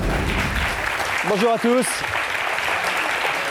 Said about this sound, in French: Et merci pour eux et tous ces applaudissements